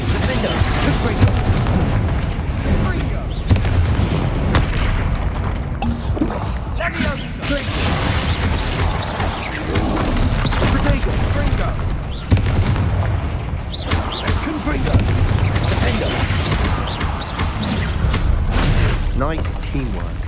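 Booming spell blasts from Bombarda and Confringo fire repeatedly in a Hogwarts Legacy battle with an angry troll, dense explosive bursts layered over game music and voices throughout.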